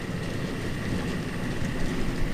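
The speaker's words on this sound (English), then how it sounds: "There's a Union Pacific Manifest trundles on by." A Union Pacific manifest freight on a model railway layout rolls by with a steady dense rumble and a continuous rattling clatter of wheels, close and fairly loud throughout, with no voices.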